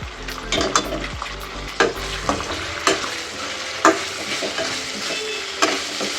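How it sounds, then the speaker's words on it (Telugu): Fresh fenugreek leaves stir-fry in a pan for a ridge gourd and moong dal curry, a steady sizzle broken by regular scraping stirs of a spatula against the metal. "దీంట్లోనే ఇప్పుడు మెంతం కూర కడిగి పెట్టుకున్నాం కదా అది కూడా యాడ్ చేసేయాలి పచ్చివాసన పోయేంత వరకు కొద్దిసేపు కుక్ చేసుకోవాలన్నమాట"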